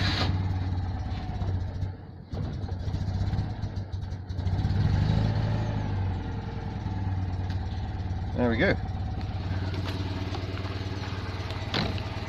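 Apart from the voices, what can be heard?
car engine running after being jump-started with a jump pack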